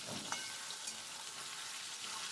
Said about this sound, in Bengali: এবার ওই কচুগুলোকে আমি ভেজে নিচ্ছি লাল করে